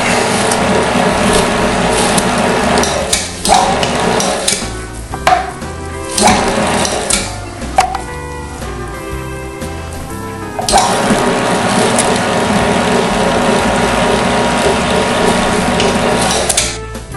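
A meat grinder working through deer and beef for bologna, a loud mechanical grinding whir with clicking, ratcheting gear noise and uneven bursts as the load shifts, no speech.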